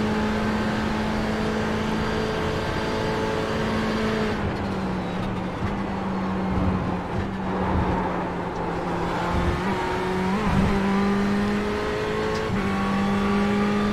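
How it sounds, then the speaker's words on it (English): A race car in iRacing, practising at Daytona, bounces on its rev limiter: a loud, sustained engine drone holding one pitch, stuttering and dipping in repeated rapid cuts, close and alone. "how many hundreds of meters this thing's bouncing on the rev limiter for"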